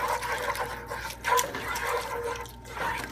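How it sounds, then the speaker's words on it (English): Water poured into a pot of Ethiopian lentil stew, a steady splashing gurgle with small drips, close and moderately loud, no talk. "Then we're going to add some water just to get some liquid in there."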